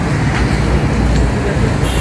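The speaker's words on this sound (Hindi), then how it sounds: "गाड़ियों का एतवार बाजार जी" Steady roar of traffic at a busy Sunday used-car market in Pakistan, engines and road noise blending into a loud, continuous wash close by, with a faint voice under it.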